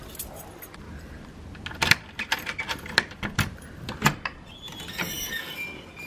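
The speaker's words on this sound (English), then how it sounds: "I'm just gonna have to grab my keys to open that up." A ring of house keys jangles close up while someone gets ready to open a garage, bursts of bright metallic clinking and rattling coming in quick irregular clusters before the noise tapers off.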